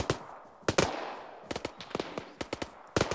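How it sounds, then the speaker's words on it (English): Gunfire in the military shooter Arma 3 during a rescue mission: a string of sharp, loud cracks in irregular bursts, some shots coming in quick pairs, with brief quiet gaps between them. "That was a good shot."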